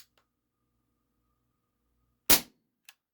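An Umarex XCP CO2 air pistol in 4.5 mm fires a single sharp, loud crack after a near-silent lead-in, followed by a faint distant tick, with no voices.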